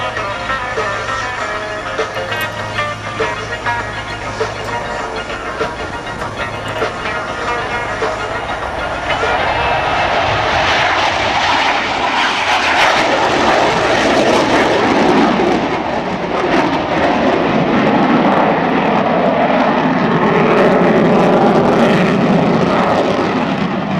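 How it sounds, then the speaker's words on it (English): F-15 fighter jet taking off and climbing at an air show, a loud, broad roar that swells after the first few seconds and stays dense and sustained, with no talk. "Captain York will start by showing you just how fast the F-15 could get off the ground and fly."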